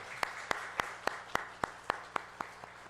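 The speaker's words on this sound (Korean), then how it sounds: "자, 우리 모두에게 한번 박수하겠습니다." Members of a church congregation at a special Holy Week dawn prayer service applaud in slow, evenly spaced claps, about ten crisp strokes in a steady beat, moderately faint against a quiet room.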